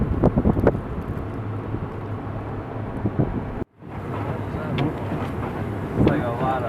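Strong wind during Winter Storm Nemo, a 2013 blizzard, buffets the microphone outdoors near a parking lot as a loud, rough roar that cuts out for an instant, then surges back, with a person speaking over it.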